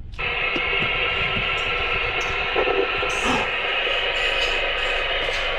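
Radio spirit box sweeping through steady white-noise static, loud and continuous with faint brief tonal blips and fragments drifting through the hiss.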